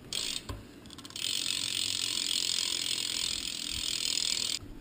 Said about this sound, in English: Hub sound.